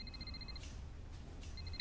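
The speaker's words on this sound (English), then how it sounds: "That's just the normal ringing noise." A telephone rings quietly in a flat, two short trilling bursts separated by a pause, faint against low room hum.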